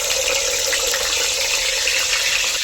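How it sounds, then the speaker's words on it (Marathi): Chopped tomato drops into hot oil over a village-style wood-fired stove, setting off an intense, continuous close-up sizzle with a dense hiss. It stays steady throughout with no speech. "तेल आपलं चांगलं गरम झालेलं आहे त्याच्यामध्ये टाकणार आहे एक कापलेला टोमॅटो"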